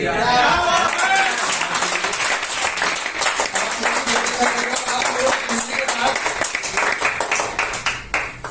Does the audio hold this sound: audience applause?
yes